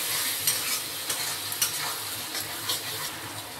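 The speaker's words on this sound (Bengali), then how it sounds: "মশলাটাকে এবার ভালো করে আমি একটু কষিয়ে নেব।" Spice paste for a bhetki fish-bone curry sautés in a pan, a constant close sizzle broken by repeated scraping strokes of a spoon stirring through the mixture.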